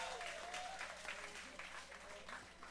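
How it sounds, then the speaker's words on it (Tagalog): Congregation applause at a Filipino church service, a steady wash of clapping sustained throughout with a faint voice or tone drifting underneath. "Malakas na palakpak sa Panginoon."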